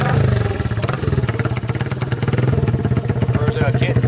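A small 1974 Honda XR75K1 motorcycle engine, kick-started, idles close by with a rapid, regular putter and clatter, loud and steady throughout.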